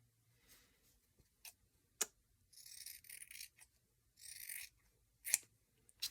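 Close scissors snipping foam to shape a monster puppet's head insert, with sharp blade clicks scattered around two longer cutting strokes, in a quiet room with no voices.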